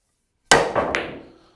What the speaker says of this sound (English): Let me have a go at this draw shot, aiming where I've just shown you in the diagram.